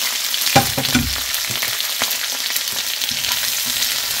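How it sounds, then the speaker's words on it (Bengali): Chopped garlic, green chillies and onions stir-fried with salt in hot oil in a pan, a loud close sizzle with a few sharp stirring knocks near the start and no talk. "কিছু রসুন কুচি আর এই যে কাঁচামরিচ, পেঁয়াজ সব কিছু ঢেলে দিয়ে একটু লবণ দিয়ে নেড়ে চেড়ে নেব।"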